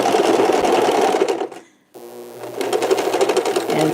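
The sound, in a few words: sewing machine stitching a fabric face mask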